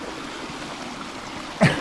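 A mountain stream flows steadily while someone pans for gold, giving an even, close rush of water that runs throughout, with a brief throat-clearing sound near the end.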